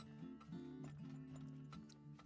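Horse hooves in the video game Turmoil clip-clop softly in a steady rhythm, faint and over a looping musical backing.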